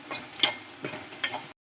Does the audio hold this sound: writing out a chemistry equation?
no